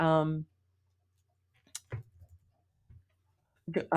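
A computer mouse clicks a publish button on a website builder: a few short, soft clicks in a quiet room, set between stretches of a voice talking.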